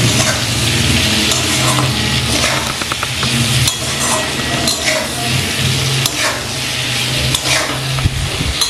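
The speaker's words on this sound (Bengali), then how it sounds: "আবার কয়েক সেকেন্ড একটু নাড়াচাড়া করে নেব।" Hilsa fish pieces stirred in a pan after turmeric and salt go in, with steady close sizzling and scraping of a utensil against the pan throughout, no voices.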